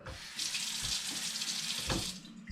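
Tap water runs from a household faucet into a sink in a steady, close hiss with a brief change in the flow near the end.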